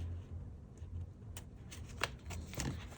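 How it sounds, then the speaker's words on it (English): Paper is trimmed up to a fold line while a mixed-media tuxedo pocket card is made, giving a few soft, crisp cutting snips over a quiet, close background with no voices. "I'm just trimming up to our fold line."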